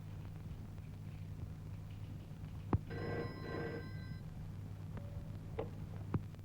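A telephone bell rings once with a bright, metallic trill lasting about a second, heard indoors in a scene from a Malayalam film, over a steady low hum, followed by a couple of faint knocks.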